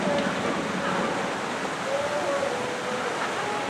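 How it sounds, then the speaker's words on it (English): Water pours and gushes out of cracks at the Shenandoah ride in the Kings Dominion amusement park. It makes a steady, dense roar that stays loud and constant for the whole stretch. "The water pouring out of the cracks."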